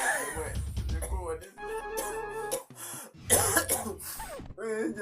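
A person coughs and clears their throat in short bursts, mixed in with voiced talking throughout.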